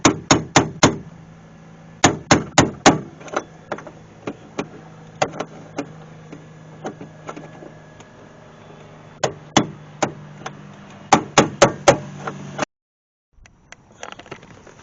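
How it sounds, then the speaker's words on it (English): Regular hammer tapping on a tool to loosen the fuel pump collar on a Cadillac CTS, sharp metallic strikes in quick bursts and single blows, spread over the stretch with pauses between. "we're going to use it with a regular hammer because the air hammer I think is going to be too aggressive"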